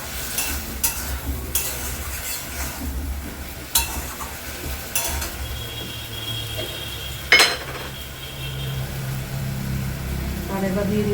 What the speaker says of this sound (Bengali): এবারে একটু করে জল দেবো, একবারে জলটা দিব না।